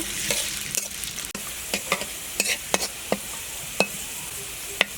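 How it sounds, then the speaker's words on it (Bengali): Chopped onions fry in soybean oil in a hot wok with a bright, continuous sizzle close by. Repeated sharp spatula scrapes and clinks strike the wok at irregular intervals, with no talking. "প্রথমে কড়াইটা গরম হওয়ার পর আমি সয়াবিন তেল দিব পরিমাণ মতো এরপরে কিছু পেঁয়াজ কুচি দিব পেঁয়াজগুলো আমি ভালো মতো ব্রাউন কালার করে নেব"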